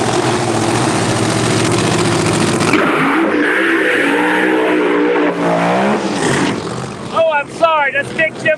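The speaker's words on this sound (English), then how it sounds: "Big Jim Phillips' car right here beside us." Race car engines at a Pro Extreme drag race, a loud sustained roar from cars in the lanes that drops as one pulls away, with a commentator speaking over the noise at the end.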